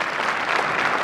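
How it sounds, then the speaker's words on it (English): A school audience claps for the music parents at a high school holiday concert, a brief burst of dense, even applause filling the hall. "Let's give them a round of applause."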